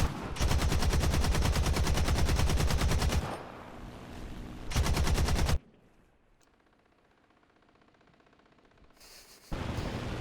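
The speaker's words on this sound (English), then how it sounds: "I'm already dead and I have somebody still shooting at me." Gunfire in War Thunder rattles out in rapid machine-gun bursts, loud and close, with a short lull between bursts, then near silence before firing resumes at the end.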